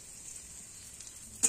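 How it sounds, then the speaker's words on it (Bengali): Dal (lentils) frying in oil in a wok gives a faint, steady hiss and sizzle, followed near the end by a sudden brief clatter or stir. "ডালটা আমি ভেজে নেব"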